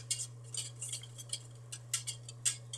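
A spoon stirring grits in a pot on a stove, a run of quick light scrapes and clinks in irregular bursts, close and fairly soft over a low steady hum.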